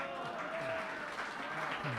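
Hall audience at a Hindi comic poetry recital breaks into steady, dense applause following a punchline, filling the space evenly for a couple of seconds with a faint murmur mixed in.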